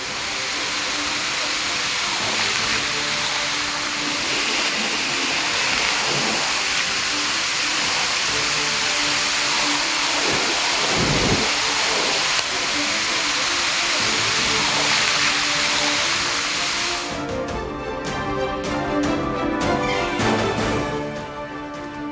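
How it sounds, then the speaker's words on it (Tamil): A flooding waterfall, Agaya Gangai falls in the Kolli Hills, gives a steady, loud broadband roar of rushing water throughout, with the texture shifting slightly near the end. "கொல்லிமலை ஆகாயகங்கை நீர்வீழ்ச்சியில் வெள்ளப்பெருக்கு"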